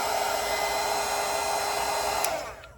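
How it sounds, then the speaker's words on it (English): A hair dryer blows steadily on watercolour paint, a loud constant whooshing hum up close that cuts off near the end and fades out. "So I'm gonna grab my dryer really quick."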